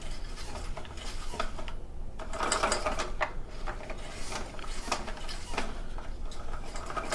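Slow, gentle pull on the recoil starter of a PowerTrain 900 watt portable generator with its spark plug removed, a gritty ratcheting whir rising and falling over steady background noise, no talking.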